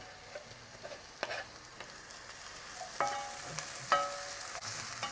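Grated garlic sizzles in a pan for a one-pan chicken pasta, a soft steady frying hiss broken by a few louder clinks and stirring scrapes close by, with no talking.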